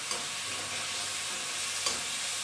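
A large tomato goes into onion and garlic frying in a pan, giving a steady bright sizzle with a couple of soft bumps as it settles.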